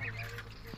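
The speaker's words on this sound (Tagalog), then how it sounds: "Ang dami ng pato, nagdatingan na sila." Ducks on a farm give a couple of quick nasal quacks, close and fairly quiet, in a brief burst without talk.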